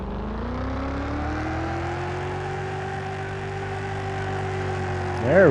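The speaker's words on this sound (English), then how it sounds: "Definitely hear that loud exhaust." Loud exhaust on a car in the Car Mechanic Simulator 2021 video game, a steady droning engine note that holds throughout, then rises sharply in a quick rev at the end.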